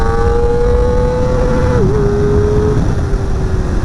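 A Kawasaki ZX-4RR motorcycle engine holds a loud, steady high-pitched whine close up, dipping briefly as it shifts, then pulling on again under a rumble of wind and road noise.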